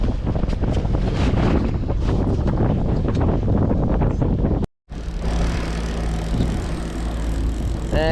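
Strong wind roars across the microphone on a boat on Lake of the Woods during high winds and big waves. The loud buffeting drops out briefly partway through, then returns as a steady rush.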